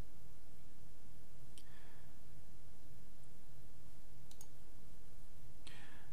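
Computer mouse clicking during software use, a few faint sharp clicks spaced apart over a low steady background hum.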